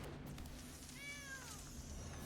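A single short, faint cat meow plays as a kitten card enters play in the MTG Arena video game, a rising and falling mew over quiet background hiss.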